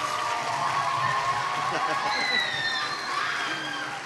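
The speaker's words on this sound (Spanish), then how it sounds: "Así que un aplauso para Alexis." An audience at a primary-school diploma ceremony for the Shakespeare school festival in Buenos Aires claps steadily for Alexis, with a voice talking over the sustained applause.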